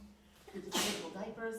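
A single sharp sneeze bursts out mid-sentence during a church service, loud and close, cutting across someone speaking to the congregation, whose talk continues around it.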